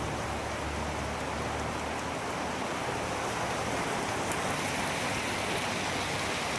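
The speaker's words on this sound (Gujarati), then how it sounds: "ગામમાં પણ પાણી એટલું ફૂલ ફાસ્ટ ચાલુ વરસાદ પણ ફૂલ ફાસ્ટ ચાલુ" Heavy rain pours down over a village in a dense, unbroken hiss that stays steady and fairly loud throughout, with no voices.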